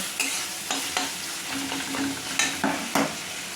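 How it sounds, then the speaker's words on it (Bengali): Spices sautéed in oil for a prawn do payaza, with a steady soft sizzle broken by a run of sharp, close stirring scrapes spaced every half second or so, without any talk. "এই মশলাগুলোকে আমি এবার এরকমভাবে কষিয়ে নেব"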